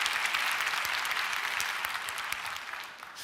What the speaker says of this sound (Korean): 한국은 좀 이상하네. 별거에 박수를 다 치네요.